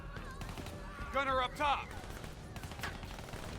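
Gunfire from a fight with enemies in Call of Duty Black Ops III: a sustained rattle of in-game shots under game sound, with a voice talking over it.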